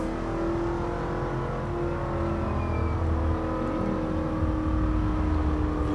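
Car in The Crew racing game cruising steadily, its engine droning with a continuous whine and low rumble throughout, close and moderately loud with no voices.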